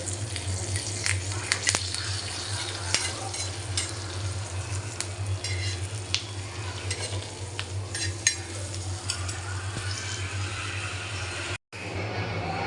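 Mackerel pieces frying in oil with curry leaves, a steady crackling sizzle with occasional stirring taps and a low background hum, running nearly the whole time with a brief dropout near the end.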